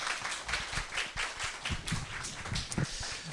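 An audience gives continuous applause after a morning school lecture. Many hands clap together in a dense, steady patter that fills the room at moderate loudness.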